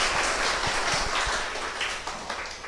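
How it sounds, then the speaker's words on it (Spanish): A church congregation applauds during a Spanish-language worship service, a dense, steady wash of many hands clapping at once that fills the room, easing slightly toward the end with no voices over it. "Vamos a dar unos aplausos al Señor."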